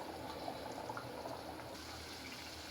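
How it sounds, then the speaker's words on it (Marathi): Moong dal khichdi simmers in a pot over a high flame while its water boils off, making a soft, continuous bubbling and gentle watery burble, faint and steady, with no voices. "हे पाणी आटेपर्यंत ह्या स्टेपपर्यंत आपल्याला शिजू द्यायचं"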